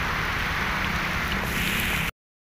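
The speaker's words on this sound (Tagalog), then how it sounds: "Sobrang lakas ng ulan." Heavy rain pours steadily as a dense, continuous hiss that holds at an even loudness for about two seconds and then cuts off abruptly.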